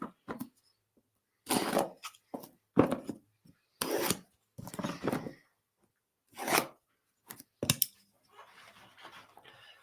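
A pocket knife slices and tears through thick plastic wrap on a boxed 7-inch fence and deck brush, in short separate bursts of crinkling and cutting with pauses between, close and fairly quiet.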